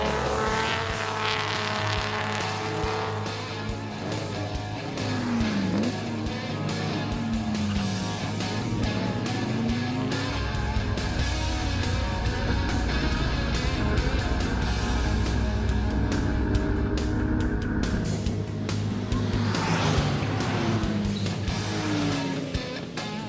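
Prewar and vintage racing cars such as Bentley, BMW, Aston Martin, Talbot, Delahaye, Riley, Bugatti and Lagonda lapping a circuit, loud engines rising and falling as several cars pass in succession, with a continuous roar throughout.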